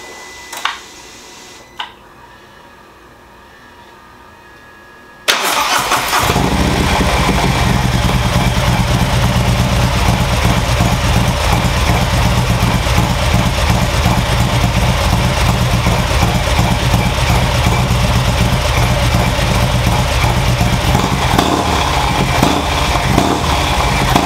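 A custom motorcycle engine starts after a few seconds of quiet room noise, then idles loud and close with a rough, continuous throbbing rumble for the rest of the clip.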